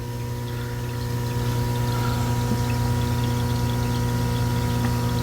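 A DIY turbo-powered sponge filter pump with a spray bar pushes water, giving a steady motor hum with a continuous rushing flow, close and even throughout.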